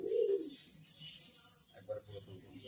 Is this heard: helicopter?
no